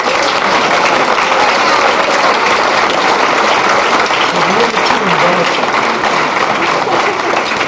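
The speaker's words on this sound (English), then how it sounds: "So I would really like another big round of applause for the celebrities" An audience gives a big, sustained round of applause for celebrities at a live event, dense steady clapping that fills the whole stretch without pause.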